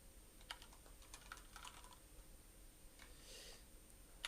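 Someone types on a computer keyboard in a quiet room, giving quiet, irregular clicks and clattering bursts.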